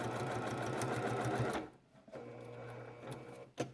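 A sewing machine stitches a fabric face mask, running in a fast steady whir for about a second and a half, then stopping briefly before a few softer short bursts and a sharp click near the end; quiet and close.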